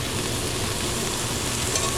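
Chicken sizzles steadily in a hot pan for Tuscan chicken pasta, a close, loud, continuous frying hiss with no pauses and no one talking.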